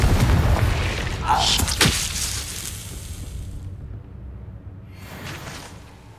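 A fire spell cast in Hogwarts Legacy, a loud booming burst with a whooshing flare, then a fading rumble and a softer second swell near the end.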